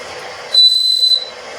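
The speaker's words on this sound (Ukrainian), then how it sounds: "Це свисток." A toy whistle blown by a child, one short high-pitched steady tone lasting about half a second, loud and close.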